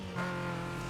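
A pizza delivery car in Need for Speed Most Wanted drones with a steady, close engine hum and a short rise in revs partway through, heard briefly with no talking.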